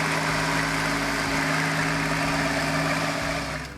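A Case 970 tractor, around 100 horsepower, runs with a steady low engine drone and a mechanical hum, loud and close, easing off slightly at the very end.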